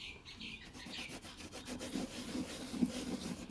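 A cloth sprayed with WD-40 rubs steadily over a small plaque on a 1974 Honda Civic series 1 mk 1, giving a soft, close scrubbing swish with quiet background birdsong.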